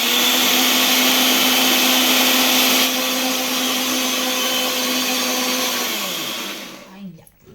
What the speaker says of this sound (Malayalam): മിക്സിൻ്റെ ചെറിയ ജാറിലേക്ക് മാറ്റാം പൊടിക്കുന്ന ജാറിലേക്ക് നമുക്കിത് അരച്ചെടുക്കാം